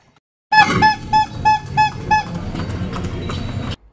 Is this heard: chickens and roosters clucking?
no